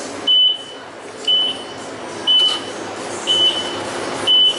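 A parked truck's warning alarm beeps five times in a steady rhythm, each beep a short, shrill, loud tone, with a faint outdoor background between beeps.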